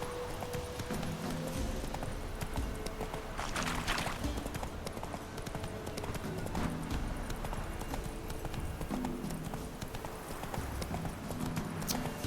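Horse hooves galloping in The Witcher 3, a steady rhythmic clip-clop of a ridden horse running continuously at close range with game ambience underneath.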